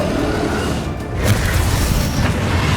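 A Confringo fire spell explodes in the video game Hogwarts Legacy, a dense low boom with rumbling bursts that swell and roll on without pause over a steady bed of battle noise.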